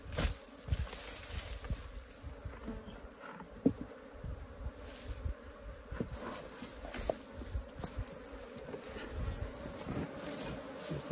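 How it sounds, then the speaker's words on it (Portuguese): Apis honey bees swarm around a hive set in a termite mound in an open pasture, producing a constant close buzzing with individual insects droning past and occasional soft knocks. "Colocou ali, já já as abelhas começam a subir"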